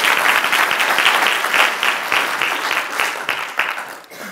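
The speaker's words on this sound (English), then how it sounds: "a round of applause for John and Helena." Sustained applause from a crowd, dense clapping that holds steady and begins tapering off near the end.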